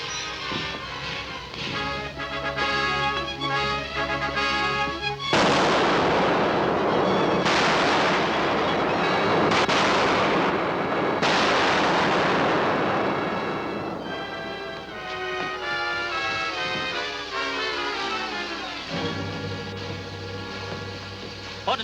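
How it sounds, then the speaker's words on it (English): Gunfire from a 1941 Roy Rogers western: loud shots and booming blasts ring out over dramatic orchestral music, with no voices. "What did those shots mean?"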